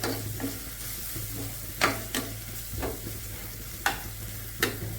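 Red chilli powder, turmeric and a dark homemade masala sizzle quietly in a pan of garlic and fenugreek, with several sharp clinks and scrapes of a stirring spoon breaking through the soft, continuous frying.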